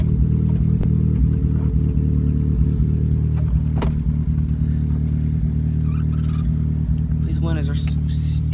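A Geo car engine idles steadily in the foreground with a constant low hum, while someone talks over it and a few clicks and rattles occur.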